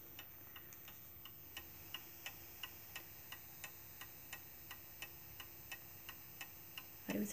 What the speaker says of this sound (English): I always find the ticking of a clock very comforting.